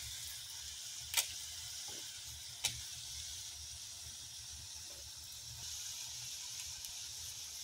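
Fritters frying in oil in a home kitchen give a steady soft sizzle with a couple of sharp crackling pops, close and fairly quiet, while someone talks in the background.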